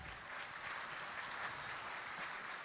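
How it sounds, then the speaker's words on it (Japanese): Audience at a Japanese MMA event applauds after a first-round knockout win, a dense, even wash of clapping that holds steady throughout with no voices standing out. "竹原選手に今一度大きな拍手をお願いいたします"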